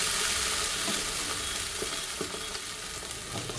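Oil and butter sizzle and crackle in a hot pan, a dense, steady frying hiss heard up close with no talking.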